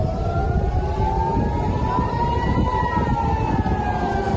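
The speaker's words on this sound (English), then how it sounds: "The warning sirens going off in Israeli cities non-stop." Rocket warning sirens wailing over Israeli cities, a steady rising-and-falling siren tone heard from a distance over a dense low rumble of ambient noise.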